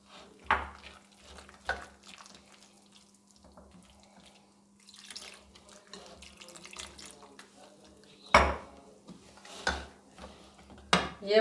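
Water being poured little by little into flour in a bowl and mixed by hand into aloo paratha dough, giving soft wet squelches and splashes, with a few sharper knocks against the bowl and a low steady hum behind.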